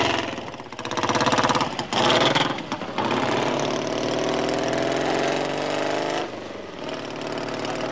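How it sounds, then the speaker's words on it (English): A chopper motorcycle engine rumbles close by, revving in rough bursts before settling into a steady, throbbing idle. "Andy offers John a lift up to Golders Green on his newly completed chopper."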